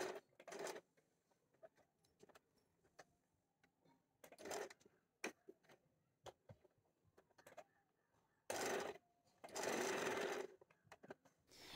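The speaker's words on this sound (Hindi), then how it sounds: "तो देखिए इसे हम इसके चारों तरफ पे सिलाई लगा देंगे।" Sewing machine stitching close around the edge of puff sleeve fabric in a few short, quiet bursts of rapid rattling, with soft handling clicks in between and no speech.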